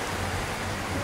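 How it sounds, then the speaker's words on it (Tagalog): Heavy rain falling during a typhoon in the Philippines, a steady dense hiss of drops with no breaks, short and even. "Umuulan na naman"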